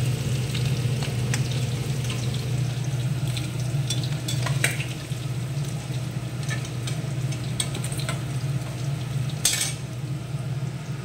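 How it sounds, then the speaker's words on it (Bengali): Rita fish frying in oil in a pan, a steady crackling sizzle running throughout with a low hum underneath and occasional sharp clinks of a utensil against the pan. "মাছ ভাজা হয়ে গেল বন্ধুরা।"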